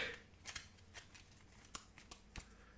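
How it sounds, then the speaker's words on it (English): A deck of tabletop game cards is shuffled by hand, a series of soft, close, irregular riffling clicks and snaps at low volume with no talk. "so we shuffle up his deck"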